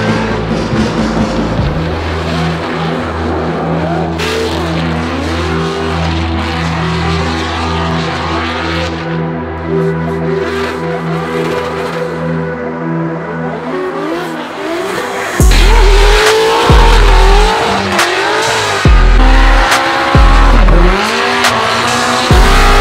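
A Formula Drift race car at an Atlanta event roars loudly, its engine revving hard through rising and falling pitch sweeps, with tire squeal and heavy throttle bursts growing louder toward the end.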